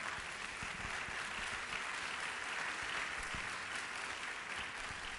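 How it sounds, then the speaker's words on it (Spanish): Steady, dense applause from a tourism forum audience, continuous and even at a moderate distance, with no speech over it. "Ese aplauso es para ustedes"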